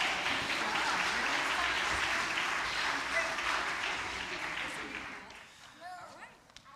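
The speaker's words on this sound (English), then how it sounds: "Let's have another round of applause for our river players." Congregation applauding for the river players at a Unitarian Universalist service, steady broadband clapping that fades out over the last second or so as a few voices speak.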